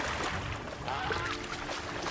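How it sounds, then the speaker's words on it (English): A goose flies off somewhere in the Horizon Zero Dawn game world near a river, its honking faint and distant beneath steady ambient wash and water noise. "I did just hear another goose fly off"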